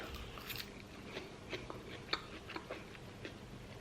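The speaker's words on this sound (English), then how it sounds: "So I'm gonna dig right in. I love fried mushrooms and onions." Someone eats a green salad topped with fried mushrooms and onions, giving quiet, close bites and soft crunchy chewing in scattered bursts over a faint background.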